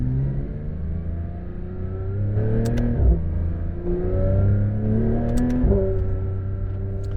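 A Porsche 911 GT3 RS sports car engine revs up in rising pulls, dropping back briefly between them, loud and close, with no talking.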